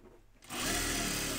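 After a quiet moment, a sewing machine starts up and runs steadily and loudly, stitching a half-inch seam on the large collar of an unlined jacket.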